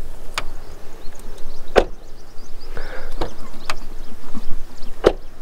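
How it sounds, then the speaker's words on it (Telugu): A Hyundai Venue SX car door is worked open and shut, giving several sharp latch clicks and solid thuds spaced a second or so apart over a quiet outdoor background, close up. "ఒకసారి మనం డోర్ చెక్ చేద్దాం."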